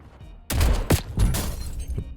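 A burst of several loud gunshots in Call of Duty: Warzone fires in quick succession, sharp cracks with booming tails, then lighter shots trailing off.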